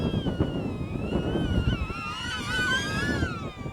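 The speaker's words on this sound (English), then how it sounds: "Yeah, that wind's insane." Strong gusty wind buffets the microphone during a drone flight test, a loud continuous roar with the thin whine of small drone motors rising and falling through it.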